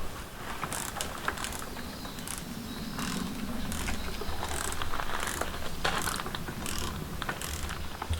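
A hand wrench ratchets a pair of spring compressors tight on a BMW 1 Series front strut, its clicks coming in a steady, close rhythm of repeated strokes and running unbroken without any talk.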